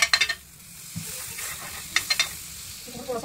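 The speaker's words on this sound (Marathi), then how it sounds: "आपण पाव भाजून घेऊया" Pav bread toasts in a buttered pan for pav bhaji, a soft steady sizzle punctuated by clinking spatula scrapes and taps against the pan, close and without talk.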